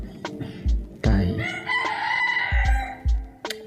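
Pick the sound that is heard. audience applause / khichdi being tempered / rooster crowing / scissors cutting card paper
rooster crowing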